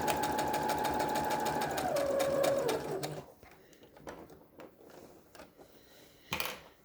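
A sewing machine runs a straight stitch on a face mask in a steady rapid whir for about three seconds, then stops, followed by quiet handling clicks and a brief louder rustle.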